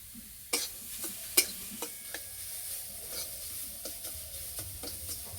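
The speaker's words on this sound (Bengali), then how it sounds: "গাজর দেওয়ার কিছুক্ষণ এইভাবে ভেজে নেব" Grated carrot frying with roasted semolina in a pan makes a soft sizzle, broken by sharp clicking stir and scrape strokes against the pan at irregular intervals.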